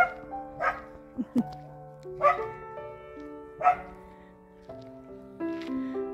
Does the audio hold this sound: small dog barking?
yes